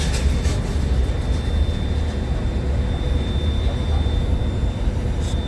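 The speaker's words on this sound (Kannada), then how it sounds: "ಈಗ ನೋಡಿ ಅಲ್ಲೊಂದು ಹೋಗ್ತಾ ಇದೆ ಏರೋಪ್ಲೇನ್, ಮೇಲೆ ಹತ್ತುತ್ತಾ ಇದೆ." A large airliner climbs away from an international airport, its broad, steady roar filling the scene at close range and holding an even loudness throughout with no voices.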